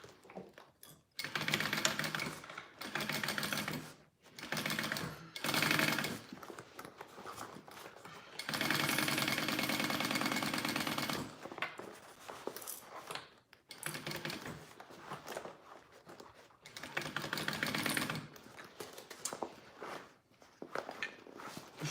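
A home sewing machine stitches a dragon sling in a series of short and long runs, its rapid mechanical chatter starting and stopping with quiet pauses between bursts, close and fairly loud.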